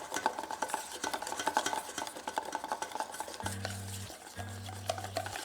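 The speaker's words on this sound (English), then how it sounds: "I'm going to continuously whisk it." Shrimp-infused butter whisked continuously in a bowl, producing close, rapid, rhythmic metallic scraping and tapping throughout, with a low steady hum joining near the end and no talk.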